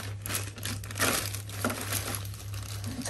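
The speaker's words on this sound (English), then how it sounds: "So, another bag, and it's not open. Time to cut it." Plastic packaging around a Bandai Godzilla movie monster figure crinkles and crackles as it is cut and pulled open, with a steady low hum beneath and no talking.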